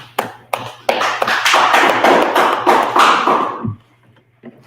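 Congregation clapping at a Purim feast closing gathering, starting with a few separate claps that swell into a dense, loud burst of group applause, then cutting off abruptly, followed by a faint clap or two near the end.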